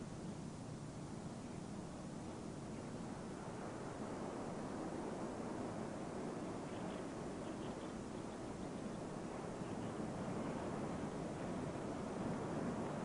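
Water rushes steadily along an artificial channel toward a saltwater lagoon, a continuous broad hiss and roar that stays even and fairly distant for the whole stretch.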